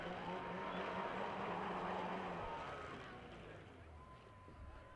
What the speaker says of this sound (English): doing a little bit of donut action in there.